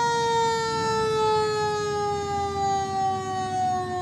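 A fire department truck in a Christmas parade sounds its siren in a steady, loud, sustained wail that holds through the whole stretch, nearby and alone with no talking over it.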